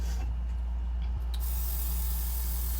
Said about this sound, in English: Lightly spraying with rubbing alcohol